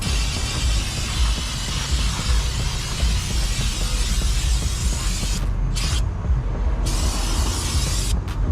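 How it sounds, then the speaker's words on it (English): Brake cleaner hisses in a continuous aerosol spray over the brakes of a 2019 Toyota RAV4 Prime, a close, steady rush broken by short pauses near the end. "Okay, let me go get my brake cleaner."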